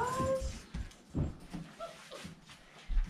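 Lab–Golden Retriever puppies whimper at feeding time, giving a few short, high, close whines that break through soft rustling and thumps before fading.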